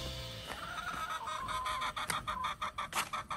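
Hens cluck and fuss inside a chicken coop where one is laying, a busy, fairly faint chorus of short rhythmic calls with no one talking over it.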